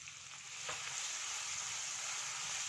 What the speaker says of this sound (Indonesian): Setelah minyak panas, masukkan bawang merah dan daun bawang bagian putihnya yang sudah diiris. Tumis bumbu sampai benar-benar harum.